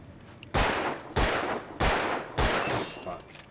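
Gunfire in the video game Alan Wake: four loud, heavy shots spaced about half a second apart, each booming and trailing off into a rumbling decay, with faint background sound between them.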